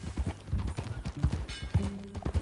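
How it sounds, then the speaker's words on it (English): Horse hooves clip-clop in a steady rhythm during a ride in a video game, close and fairly loud, with a brief whinny-like tone late on and no talk over it. "Get back on your horse."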